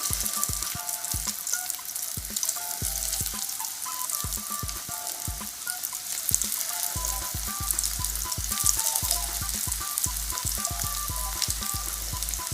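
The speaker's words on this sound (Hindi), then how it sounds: "ऑयल गर्म हो गया है, चलिए कबाब डालना शुरू करते हैं।" Hara bhara spinach kebabs fry in a small amount of hot oil over medium heat, giving a steady close sizzle and crackle with faint stirring sounds and no talk.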